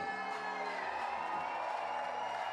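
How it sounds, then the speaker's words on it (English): A crowd at a bouldering competition final cheers loudly and continuously for a climber, a sustained roar with whoops rising above it. "Lily gets a big cheer."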